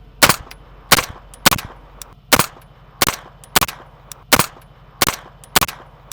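A gun fired during a shooting drill after dismounting a vehicle: about ten loud, sharp shots at slightly uneven intervals, each crack followed by a short ringing tail, with no talking.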